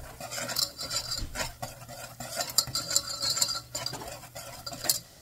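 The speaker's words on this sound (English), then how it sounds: "we're going to stir this constantly for 1 minute." A spoon scrapes and stirs flour through butter in a pan to make a roux for a cream sauce, a steady run of close scraping and clinking with faint sizzling beneath and no talk.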